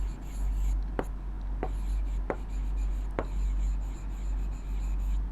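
Pen strokes scratch and tap on paper during a maths lesson, a few short, distinct marks spaced apart and fairly close, over a low steady room rumble.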